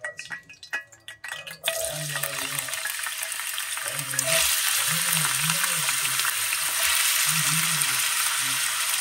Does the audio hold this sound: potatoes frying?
yes